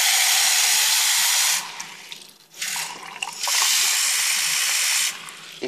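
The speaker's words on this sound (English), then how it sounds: "then I'm gonna fill this with hot water" Hot water runs from a tap in a steady hissing stream for the salt-and-ice melting test, stopping briefly near the middle before flowing again, close and fairly loud with no voices.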